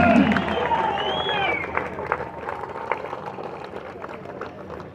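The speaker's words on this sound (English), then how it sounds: "I want to give yourself a round of applause for turning up today to stand for the daughters of England" Rally crowd clapping and cheering, a loud burst of applause that thins into scattered claps and fades over a few seconds.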